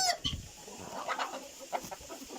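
Chickens clucking nearby in short soft bursts, a few birds calling irregularly against a quiet farmyard background.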